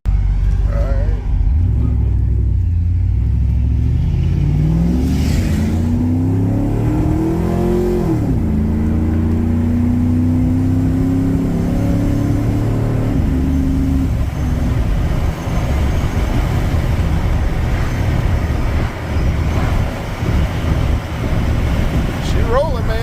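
An LSX V8 engine with Fitech EFI in an OBS truck cranks and fires, rising through loud revs before settling into a rough, steady idle, with wind buffeting the microphone.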